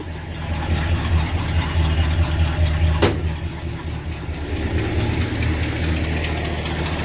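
A 1968 Ford XL V8 idles with an exhaust leak, giving a steady low rumble with a ticking, puffing edge, close by, with one sharp click partway through.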